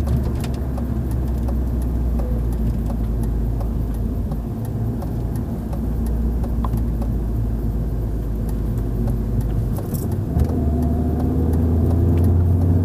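Cars passing on the Nürburgring Nordschleife racetrack, a steady engine drone and road roar heard from trackside, with a shift in engine note near the end.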